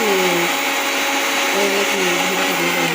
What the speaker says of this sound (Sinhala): ඒ නිසා තමයි මේ බ්ලෙන්ඩර් කරලා මම ගන්නේ